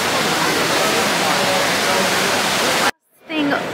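Water of the Trevi Fountain in Rome, a loud steady rushing splash heard close up, cutting out abruptly near the end before returning.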